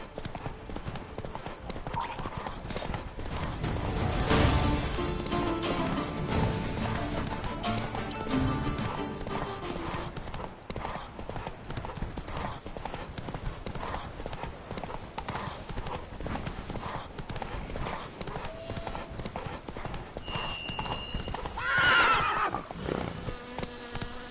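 Clip-clop of Roach the horse's hooves galloping in The Witcher 3, a steady rhythmic beat with a neigh or whinny partway through, a buzzing insect-like whine near the end, and game ambience underneath.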